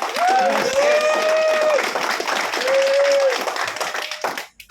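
Applause from a large audience at an Enagic anniversary award ceremony in Las Vegas, dense steady clapping for a winner with music tones and a host's voice over it, fading near the end.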